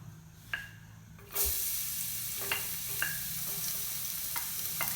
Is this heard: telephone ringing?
no